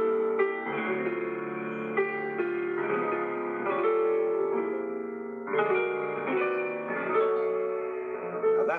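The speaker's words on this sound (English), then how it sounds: "Now, this means that ultimately, Fair Harvard can sound like this." A chromatic musical rendition of the song Fair Harvard plays alone as a continuous, harmonically dense instrumental passage whose chords shift every second or so, with no voices over it.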